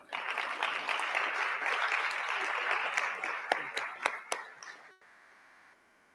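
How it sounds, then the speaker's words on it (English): A school board meeting audience applauds district support staff nominees with dense, steady clapping that fades out near the end, leaving quiet room tone. "Let's give them a big round of applause."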